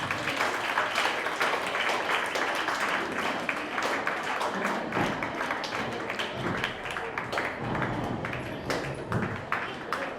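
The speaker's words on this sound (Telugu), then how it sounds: "అందరూ గట్టిగా క్లాప్స్ కొట్టాలి." Audience clapping for prize winners at a closing ceremony of an eye donation campaign event at the Atheist Centre, a dense, continuous patter of many hands filling the room, with a voice faintly mixed in.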